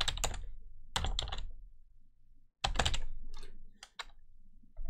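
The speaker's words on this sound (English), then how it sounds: "let's type our get date" Computer keyboard keys clatter up close in quick bursts as a PowerShell command is typed, with short pauses between the rapid groups of keystrokes.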